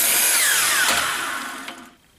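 A power saw cuts wood pieces for a bee escape jig: one short, loud, high whining cut that bites through the wood and spins down to quiet within about two seconds.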